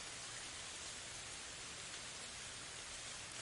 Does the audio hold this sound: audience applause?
no